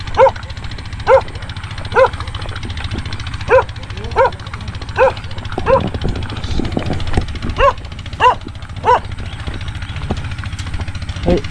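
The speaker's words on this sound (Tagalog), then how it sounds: "Ito yung mga kalaban, yung mga aso." Dogs bark outdoors beside a fish harvest, sharp barks repeating roughly once a second in a steady series over a low engine drone, fairly close and loud, with no talking.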